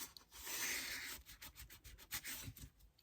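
Card or paper rubbed firmly by hand to press a freshly glued part down on a handmade wedding congratulations card, giving a close, steady scraping rub with short repeated strokes toward the end.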